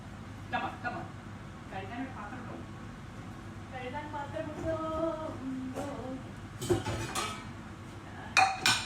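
Pots and dishes being washed in a home kitchen, with intermittent clinks and clatters of pans and cutlery, a few sharper knocks near the end, beneath ongoing talk.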